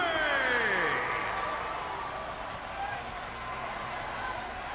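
Video game crowd in a WWE 2K22 wrestling arena roars and cheers after a match win, loud at first then easing into a steady distant crowd bed, with a sweeping electronic tone at the start.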